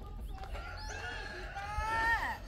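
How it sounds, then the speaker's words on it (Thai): A rooster crows at a rural resort near Khlong Lan waterfall in Kamphaeng Phet, Thailand. The call is a rising and falling crow over steady low background rumble, heard alone. "มีไก่ด้วย"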